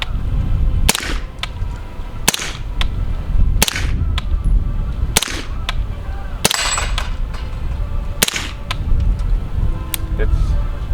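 Suppressed 9mm AR with an 11-inch barrel and direct-thread Odin Works Enduro suppressor firing outdoors, seven sharp, spaced cracks about one to two seconds apart, each with a brief tail.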